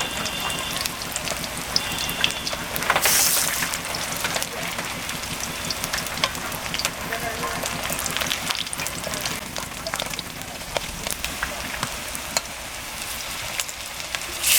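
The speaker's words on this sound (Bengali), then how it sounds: "এটা আস্তে আস্তে ভাজলে বেশি ভালো হবে, তাহলে কাঁচা থাকবে না।" Malabar spinach fritters frying in hot oil, a steady crackling sizzle with scattered pops across the whole stretch, fairly loud and close.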